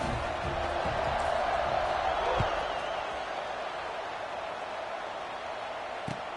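A steady crowd roar fills a video game football stadium during a kickoff, a broad wash of cheering noise with a brief swell near the middle and a faint thump or two.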